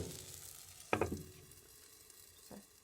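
Pancakes fry in oil in a covered pan with a quiet, steady sizzle, broken by a brief clattering knock early on and a softer tap near the end.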